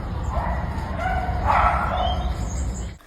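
Dogs and puppies in kennels at a breeding facility, with a few high barks and yips rising and falling over a constant low rumble, moderately close, without talk.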